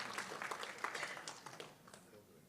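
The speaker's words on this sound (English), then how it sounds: "let's give a big round of applause to the Kenyan." Applause from a conference audience at an inspirational business event, a steady wash of clapping at moderate level that thins slightly toward the end.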